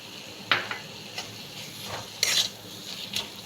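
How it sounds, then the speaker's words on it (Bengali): Goat fat frying with spices in a pan while being stirred, giving a steady sizzle broken by a few sharp scrapes and clinks of the utensil against the pan. There is no talking. "এবার আমি খাসির যে চর্বিটা এটা দিয়ে দিচ্ছি।"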